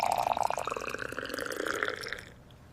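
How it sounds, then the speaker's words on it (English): Water fills a tall glass in a steady, close gurgling pour whose pitch climbs as the glass fills, then stops abruptly and leaves near silence. "I pour water into a tall glass"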